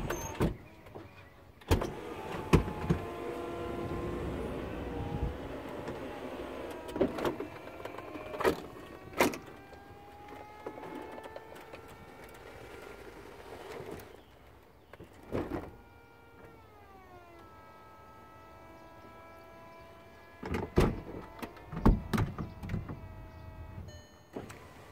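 Roof mechanism of a VW Eos convertible running with a steady electric motor whine, broken by several sharp clicks and clunks as the roof flaps move, close and fairly quiet, with no talking.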